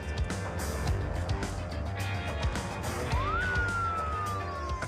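A brief Australian police car siren whoop rises sharply and then slides down, over a steady rumble of engine and road noise.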